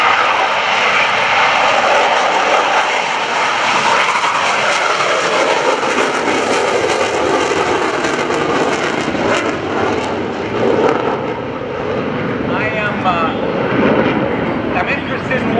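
An F/A-18C Hornet fighter jet roars continuously as it lands hard at NAS Oceana airshow, a broad heavy engine rush with a high whine, filling the whole stretch.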